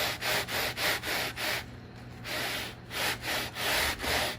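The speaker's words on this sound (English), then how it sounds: "polish the frets up with the sanding block" Rhythmic back-and-forth rubbing of a sanding block polishing guitar frets, close and steady, a dry scratchy stroke repeated about twice per second with a brief pause midway.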